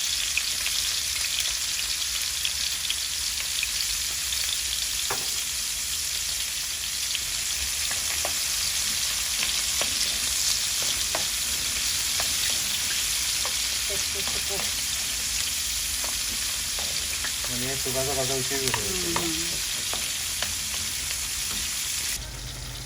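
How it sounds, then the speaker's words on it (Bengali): Onions fry in a pan with turmeric, chili powder, salt and garlic, giving a steady close sizzle with occasional stirring clicks and scrapes; a voice speaks briefly near the end. "ওই যে আমাদের পেঁয়াজ ভাজা হয়ে গেছে"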